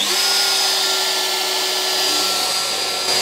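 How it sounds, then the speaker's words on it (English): A DeWalt router and a dust extractor on a CNC machine running together, a loud steady high-pitched whine over a constant airy roar that holds without a break, close by and with no voices. "The first one is to turn on my DeWalt router and then also my extractor."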